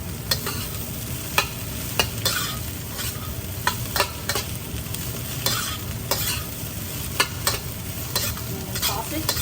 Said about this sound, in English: we're going to finish off by adding all the eggs into the rice and mix it up very well